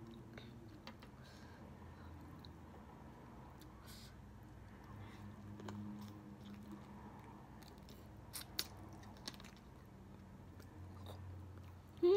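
Someone chews and bites into fried turkey wings coated in fish sauce and chili, giving soft crunches and wet chewing close to the mic, with quiet room noise and a few sharper clicks.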